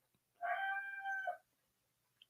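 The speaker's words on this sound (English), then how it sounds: "I only have a rooster." A single rooster crows once, clear and fairly close, a drawn-out call lasting about a second, with quiet surroundings before and after.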